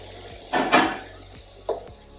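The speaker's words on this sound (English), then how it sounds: "So now it's time to add it back into the pan again." Homemade potato fries tipped back into a hot pan for a second fry, giving a loud clattering rush of contact, then a shorter knock a moment later over a low background hiss, with no talking.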